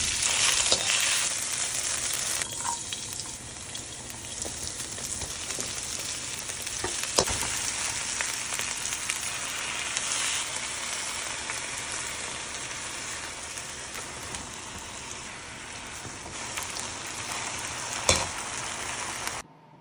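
Beef chow fun noodles stir-frying in a hot pan, a continuous loud sizzle with scattered clanks and scrapes of stirring throughout, no voices.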